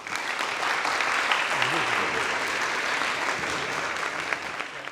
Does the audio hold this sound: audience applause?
yes